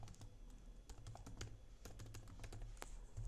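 Typing on a computer keyboard while writing HTML code, a steady run of quiet, close keystroke clicks with irregular rhythm, no voices.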